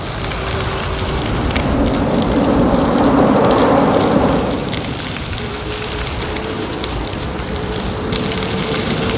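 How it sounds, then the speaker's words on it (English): A dual-motor electric bike at half throttle tows a deer trailer loaded with 150 lbs of gear up an incline. Its broad motor whir and wind rush swell for a few seconds, then ease back to a steady hum. "Now, you can hear that was only half throttle."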